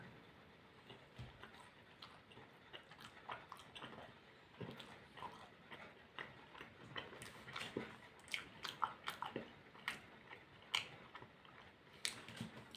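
Natural apple-raspberry fruit candies chewed up close, with intermittent soft bites and wet, crunchy mastication in an irregular rhythm across a quiet room, no talking.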